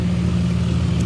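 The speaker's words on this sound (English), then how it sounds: "loud truck here" A loud truck rumbles past outdoors at a city square, a heavy, steady low engine drone close by with no talking.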